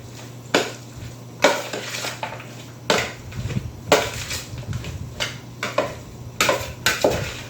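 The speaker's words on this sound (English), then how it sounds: "And mix this up." Green bean casserole mixed with a spoon in a bowl, a series of close, irregular clinks and scrapes of spoon on dish, each stroke followed by soft wet churning.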